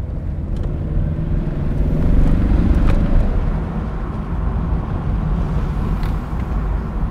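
A car engine revs up and accelerates, its steady close rumble swelling to a peak partway through before settling back to a strong drone.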